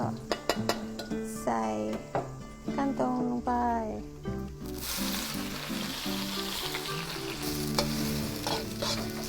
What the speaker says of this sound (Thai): ทีนี้ก็ใส่กระเทียม ที่สับแล้วลงไป